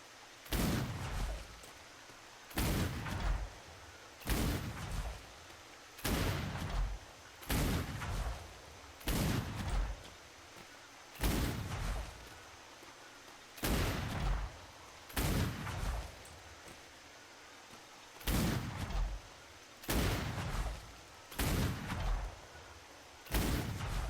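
A heavy gun in the game Atlas booms again and again, about fifteen loud, evenly spaced blasts with short pauses between, standing alone without talk.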